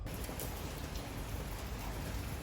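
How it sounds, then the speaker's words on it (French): Heavy rain pours steadily throughout, a dense, continuous hiss of drops drumming on surfaces with no pauses. "Malheureusement, il pleut des trombes."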